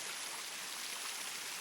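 Water streams over the limestone rocks of Buatong Sticky Waterfall, a steady broadband rush and gurgle that stays even and continuous throughout, with no voices.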